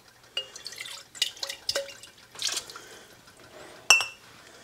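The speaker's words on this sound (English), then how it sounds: "let's rinse out these tomato jars" Water splashing and dripping while tomato jars are rinsed out, with a series of irregular near splashes and clinks of glass, one sharper knock of a jar near the end.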